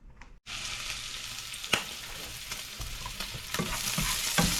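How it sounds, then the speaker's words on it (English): Bacon renders in a pan with a steady, close sizzle and crackle, scattered pops and sharp spits breaking through after a brief silent start; no voices. "I'm rendering some bacon, which I'll chop and add to the filling."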